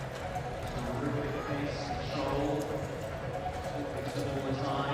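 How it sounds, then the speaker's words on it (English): At the FEI Driving World Cup in London, a team of carriage horses trots through an indoor arena during a driving competition. Steady hoof clip-clops and rolling wheel noise run under continuous announcer commentary. "Those 2 lead horses working in unison."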